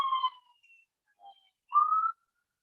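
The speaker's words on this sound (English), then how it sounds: "you hear sirens in the back?" A distant emergency siren rises and falls in two brief tonal sweeps, faint and far off against an otherwise quiet background.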